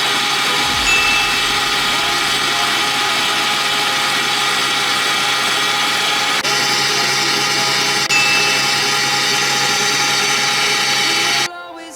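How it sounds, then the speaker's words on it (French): An electric mixer beats eggs for a lemon meringue tart, a steady loud whirring drone that runs unbroken for about eleven seconds before cutting off abruptly near the end. "j'ai battu les œufs jusqu'à refroidissement complet"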